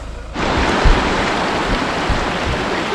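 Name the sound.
small waterfall stream on Tapalwadi monsoon trek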